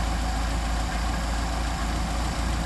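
An engine fitted with a Solex carburetor idles steadily while the carburetor is being adjusted, a constant, fairly loud hum with a faint regular low pulse.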